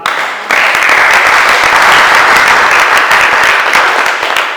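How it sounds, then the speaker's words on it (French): A church congregation at a Sunday service breaks into loud, sustained applause that starts abruptly and stays dense and steady throughout. "Nous devons les acclamer beaucoup pour eux."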